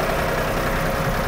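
Ford tractor engine running steadily as a gear is engaged, a loud continuous diesel drone close by with no pauses.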